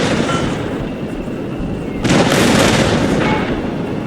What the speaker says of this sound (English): The cannons have plenty of clearance.